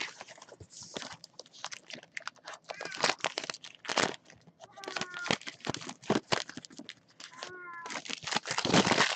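A house cat meows several times, with short tonal calls in the middle and near the end. Frequent crinkling, tearing and clattering of packaging sits close by, along with light talk.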